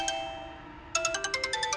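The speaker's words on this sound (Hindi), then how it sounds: "किसका फोन है?" A phone ringtone starts with a sustained tone, then breaks into a quick, bright repeating chime pattern, close and clear with no talking.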